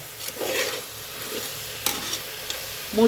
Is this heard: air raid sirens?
no